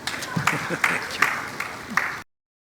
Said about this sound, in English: I think you can give me a round of applause too.